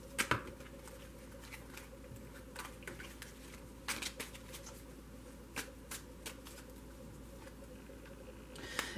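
Tarot cards being shuffled by hand to draw clarifiers: soft, close riffling and light slaps come in scattered bursts over quiet room noise, fairly faint, with no talking.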